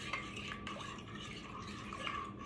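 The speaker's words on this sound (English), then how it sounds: "Now we're gonna mix that up." Sourdough starter is stirred into water in a bowl with a utensil, a soft continuous swishing with faint scrapes and clinks, close and fairly quiet.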